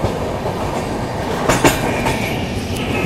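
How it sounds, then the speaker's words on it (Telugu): The Coromandel Express, a passenger train, rolls through a station with a loud, continuous rumble of wheels on rails, a few sharp clanks rising above it; no voices. "సో కేవలం 12 నిమిషాల డిలేతో ట్రైన్ ఇక్కడ చేరుకుంది"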